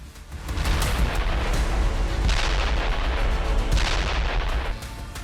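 Heavy explosions and artillery fire from Russian cluster missile strikes during the war in Ukraine form a loud, sustained rumbling barrage with overlapping booms, easing slightly toward the end.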